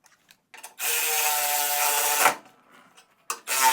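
A hand ratchet drives a bolt tight into a no-drill flap mount on a Spartan 48-inch zero-turn mower, giving close, loud bursts of rapid clicking, one long pull and shorter strokes around it.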